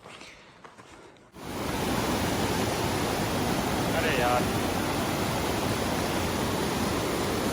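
Rushing mountain stream water on the Yulla Kanda trek in Kinnaur, a loud, steady broadband roar close by that swells in abruptly after a brief spoken exclamation and continues unbroken.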